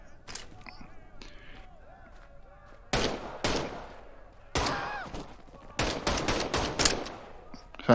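Luger pistol shots in the WWII shooter Medal of Honor: Above and Beyond, several sharp separate cracks, a few spaced apart and then a quicker run of shots near the end, over quiet game ambience.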